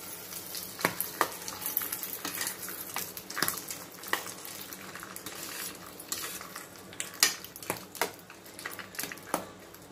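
Curd rice being stirred and mixed with a spoon in a pan, with soft squishing and repeated light clinks of metal against the vessel, close and steady without voices.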